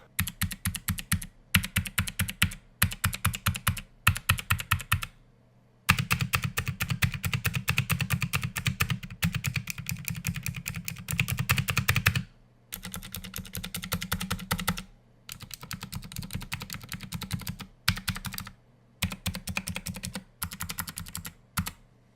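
Rapid typing on an Asceny One mechanical keyboard with PBT keycaps in several long bursts separated by brief pauses, crisp clacky keystrokes close up with no talking.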